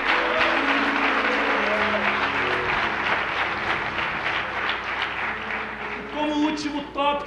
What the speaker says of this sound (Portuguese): Force o teu aplauso a ele.